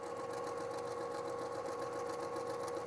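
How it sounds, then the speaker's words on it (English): Sewing machine stitching a quarter-inch quilt seam with an edge guide, running steadily and continuously at close range with an even mechanical whir throughout. "I'm just watching the machine feed those 2 edges together nicely"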